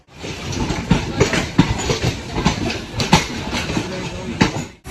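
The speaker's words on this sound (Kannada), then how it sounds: "ಟ್ರೈನಲ್ಲಿ ಹೋಗ್ತಾ ಇದೀವಿ" A moving train rumbles steadily with rhythmic clatter over the rails, heard from inside a carriage while people talk in the background.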